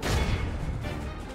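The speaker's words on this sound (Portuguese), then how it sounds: "Acho que a balista consegue dar um tiro bem." A ballista shot in the Medieval 2: Total War battle game, a loud, dense burst of impact with low thumps at the start, filling the whole short clip with rumbling noise and no talk.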